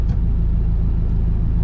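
Cars gathered at an automotive lifestyle event rumble in a low steady drone nearby, a constant engine hum with no distinct pass-bys or revs.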